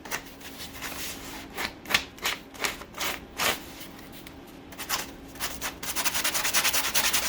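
Hand sanding on the surface of a custom splitter lip for a Jetta MK4, heard as rhythmic scratchy rubbing strokes in bursts, close and fairly quiet, with faster steady rubbing toward the end.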